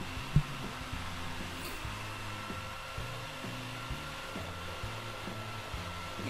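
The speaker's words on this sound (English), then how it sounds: "especially when you're gonna use the router" A wood router cuts an inner circle out of a full board for a fish-shaped mirror, giving a steady, fairly quiet motor drone with a low rhythmic hum throughout and one brief knock near the start.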